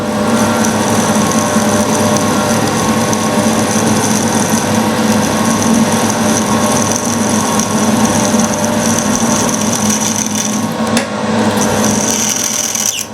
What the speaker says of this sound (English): When you're drilling studs, it always pays you to drill all the way through them if you can.